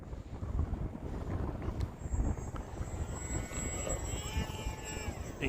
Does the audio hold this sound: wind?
yes